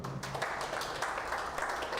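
A crowd applauds with dense, steady clapping that fills the short stretch, moderately loud and slightly distant.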